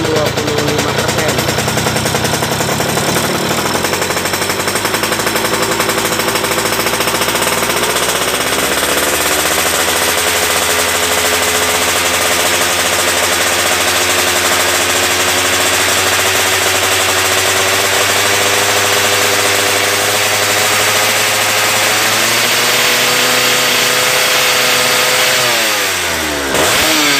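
A carbureted motorcycle engine revs steadily and loudly during pilot and main jet tuning, its pitch climbing and holding high, then surges sharply near the end.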